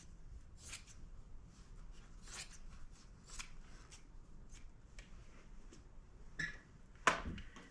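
Scissors cut excess fabric off a table runner, a run of quiet rasping snips and soft rustles close by, ending with a couple of sharper clicks.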